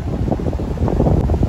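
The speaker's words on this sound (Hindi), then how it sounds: "ठंडी हवा चल रही है" Cool wind blows beside a clear river in Spiti Valley, a steady loud rush and buffeting against the microphone, with no voices over it.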